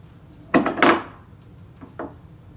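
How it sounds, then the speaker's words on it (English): A spatula scrapes cream cheese off the sides of a bowl for a fruit dip, two close scraping strokes followed by two fainter, shorter scrapes, with quiet gaps between. "we really want to make sure we scrape down the sides so that all the cream cheese is in the center of the bowl"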